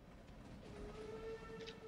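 A train passing in the Stardew Valley video game, a steady low rumble with a faint sustained whistle-like tone, moderately quiet and continuous throughout.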